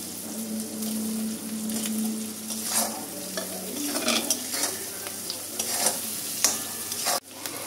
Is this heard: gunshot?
no